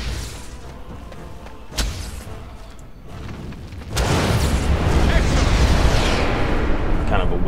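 A Fire Blast spell bursts in Dragon Age: Origins during the Harrowing, a sudden boom that swells into a sustained roaring rumble of flame, loud and close after a quieter stretch with a brief sharp pop.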